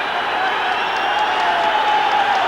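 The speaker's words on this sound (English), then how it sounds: "So a tremendous atmosphere inside Rugby Park for this vital promotion match" Football crowd of around 10,000 at Rugby Park, Kilmarnock, for a vital promotion match against Cowdenbeath in 1990: a dense, distant roar of chanting and cheering filling the stadium, steady throughout.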